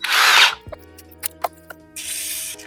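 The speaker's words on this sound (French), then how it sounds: "On perce de l'acier trempé." A step drill bit bores into a hardened steel cylinder head screw, giving harsh hissing bursts of cutting at the start and end, separated by quieter clicks and taps, close and with no voices.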